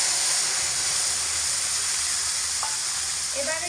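Poppy seed paste mixed with water hits hot oil with kalonji while mustard-poppy hilsa is cooked at home, producing a loud, dense, hissing sizzle that holds steady throughout, with a faint tap near the end.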